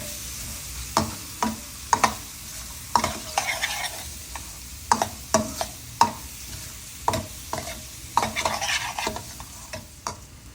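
A spoon repeatedly scrapes and stirs through a frying potato curry as coriander powder and spices are mixed in, steady rhythmic clatter over a low sizzle, close and with no talking.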